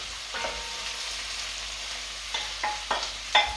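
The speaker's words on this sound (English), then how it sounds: "we're going to let this sweat down for about 20 minutes, stirring occasionally" Cabbage, onions and tomatoes sweat in a pan for a lamb curry, a soft steady sizzle with four or five brief scraping stirs bunched toward the end, close by.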